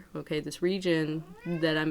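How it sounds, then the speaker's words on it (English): A pet cat meows several times in close succession, loud and near, with a person's voice talking in the room at the same time as the meows. "Sorry about my cat."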